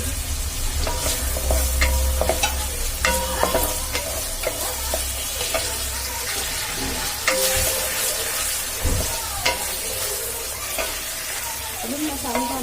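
Green chillies frying with soya chunks in a hot pan, a loud continuous sizzle with repeated spoon scrapes and clatter from stirring, close and busy throughout.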